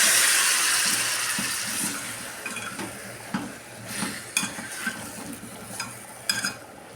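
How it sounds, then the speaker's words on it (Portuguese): Garlic cooks in a small pan with a little water added, giving a soft steady sizzle with occasional stirring clinks of utensil against the pan, close by and with no talk. "Vou colocar um pouquinho de água no fundo para não queimar meu alho."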